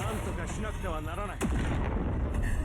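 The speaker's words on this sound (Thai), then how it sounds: "เป็นระเบิดฟองสบู่ติดตามศัตรูนะครับ" A booming explosion of an enemy-tracking bubble bomb in the Roblox game A Universal Time, with a sweeping warbling tone before it, loud and layered over steady background game noise.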